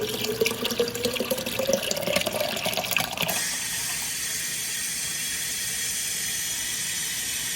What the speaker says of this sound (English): Then I'm gonna fill the water up here so I'll have more tea.